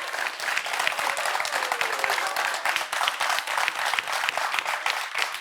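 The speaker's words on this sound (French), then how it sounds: "je ne me souviens pas d'applaudissements aussi nourris" Hearty, sustained applause from an evening audience at a screening event, thick continuous clapping with a faint voice briefly audible underneath.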